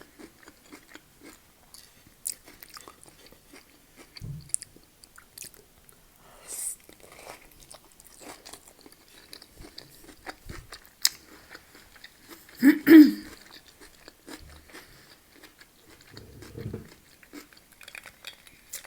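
Chewing on vegetarian stuffed peppers during a mukbang, soft close-up wet bites and munching in scattered bursts with occasional cutlery clinks, no talking.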